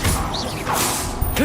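The Expelliarmus disarming spell fires in Hogwarts Legacy, a quick magical whoosh with mechanical clatter and a thud in a short, busy burst of game effects.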